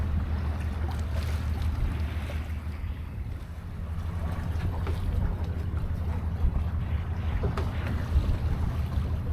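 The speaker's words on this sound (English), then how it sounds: "The wind has picked up a little bit and we are back to sailing." A sailboat running downwind as the breeze picks up, a steady low rush of wind and water against the hull with faint sloshing, no voices.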